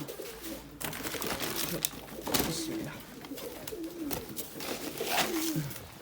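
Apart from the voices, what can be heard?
birds cooing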